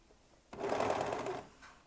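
A sewing machine, fitted with a trimming knife, stitches fabric in a short close burst that starts abruptly and runs steadily for about a second before slowing.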